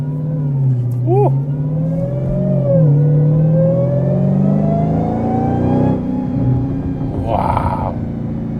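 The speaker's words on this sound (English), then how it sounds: "That whine is so much louder on this car. I mean, it is a bigger supercharger" A Dodge Demon 170 engine rumbles and accelerates loudly, with a rising high-pitched supercharger whine from its large supercharger layered over the steady drone.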